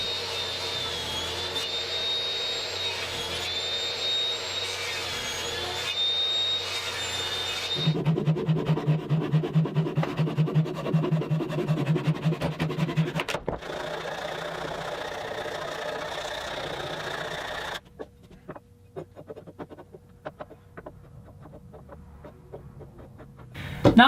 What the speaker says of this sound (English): I think I can make this cut on the table saw by running it face down on my sled.